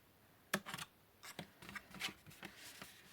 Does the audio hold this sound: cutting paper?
yes